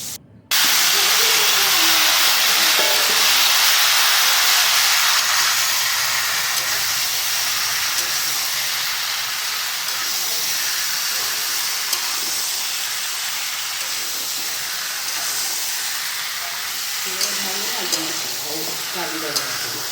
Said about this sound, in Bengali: এবার সর্ষের তেল দিয়ে আমটা ভালো করে ভেজে নেব।